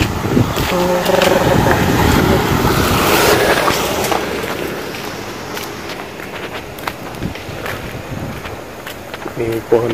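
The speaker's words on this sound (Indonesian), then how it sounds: "tertiup angin yang sangat kencang." Very strong wind gusts roar along a street in Korea littered with fallen branches and leaves, loud and blustery at first and then easing, while someone talks over it.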